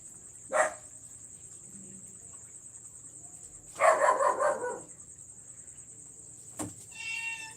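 A dog gives a short bark, then a longer burst of barking a few seconds later, over a steady high-pitched insect chirr.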